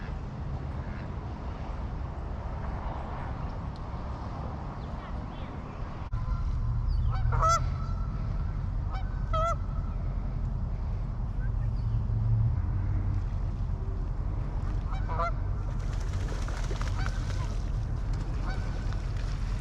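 Geese honk repeatedly on the water, one goose chasing another from its spot, with sharp bursts of calls standing out over steady outdoor wind and water noise.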